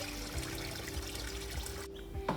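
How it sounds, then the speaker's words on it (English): Water trickles and pours steadily in an aquaponics fish tank setup, a soft continuous splashing under a low hum, close and moderately quiet, with a brief louder splash near the end. "I love the noise of the aquaponics."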